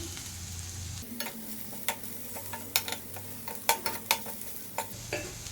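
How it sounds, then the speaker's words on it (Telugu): Cut okra fries in a pan for a dahi bhindi curry, giving a soft low sizzle broken by light, irregular spatula scrapes and taps as it is stirred, quiet and close. "ఈ బెండకాయల్లో జిగురు పోయేంత వరకు వేయించుకోవాలి"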